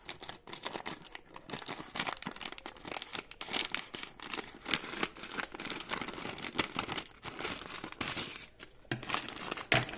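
Plastic packaging of a Lego hedgehog set is cut open with scissors, producing close, irregular crinkling, rustling and tearing noises in quick bursts throughout.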